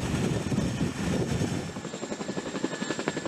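An MH-47 Chinook twin-rotor military helicopter thunders loudly and close, its rotor beat turning into a distinct rapid chop toward the end.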